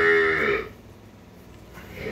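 A young heifer calf at a cattle market gives a loud, drawn-out moo that fades after about half a second, then a second moo begins near the end.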